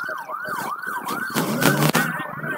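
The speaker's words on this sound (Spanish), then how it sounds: "Pasaron las dos ambulancias" Ambulance sirens wail in a rapid rising-and-falling pattern as they pass through a city street during a blockade, loud and close over traffic noise, with a sharp clatter near the end.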